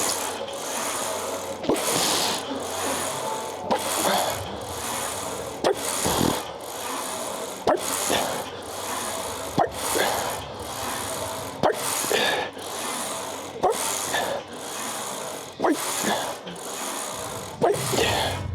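Hack squat machine cycling through warm-up reps in a gym, with rhythmic repeated scraping and clanking strokes roughly every second or so, fairly close and steady, with faint voices under it.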